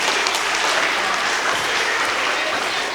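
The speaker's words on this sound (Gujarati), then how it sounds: "સરસ, તાળીઓ થઈ જાય ટીમ વિશ્વાસ માટે" A room of people applauds for a school quiz team, children from standards 4 and 5 at a general-knowledge contest, with steady, dense clapping throughout and no voices over it.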